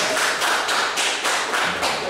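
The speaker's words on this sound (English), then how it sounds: "Give me a round of applause." An audience claps in a short burst of applause lasting about two seconds, with rhythmic, fairly close hand claps.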